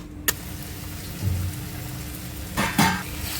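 Tomato being sautéed in a pan for masoor amti, a continuous close sizzle broken by a few sharp clatters and scraping stirs, with no voices.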